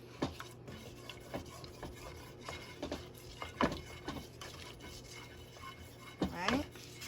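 A utensil stirs and scrapes a flour-and-butter roux cooking in a pan, making soft rubbing strokes and occasional sharper scrapes against the pan. Quiet, close and irregular, with brief talk mixed in.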